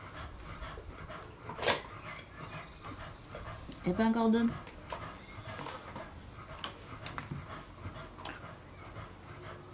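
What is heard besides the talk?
dog panting heavily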